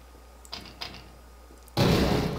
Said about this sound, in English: I'm closing that door.